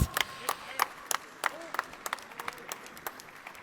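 Scattered claps ring out at a distance at a prize ceremony at the ADAC SimRacing Expo 2019, a sparse rhythm of individual hand claps over a hushed, faint background.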